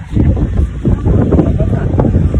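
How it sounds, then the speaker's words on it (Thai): Strong storm wind in Pattaya, Thailand, roars and buffets loudly against the microphone in continuous gusts, with no clear speech. "ลมแรงมาก"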